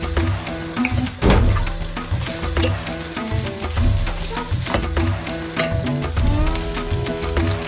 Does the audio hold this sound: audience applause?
no